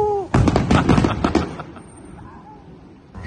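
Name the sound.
fireworks exploding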